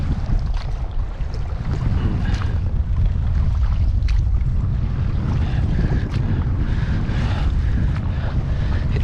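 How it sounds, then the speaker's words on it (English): Strong, steady wind roars and buffets the microphone on the Kingsbridge Estuary near Frogmore Creek, over low lapping water around a small dinghy, continuous and loud with no talking. "This wind, it'll be hitting the shore very hard."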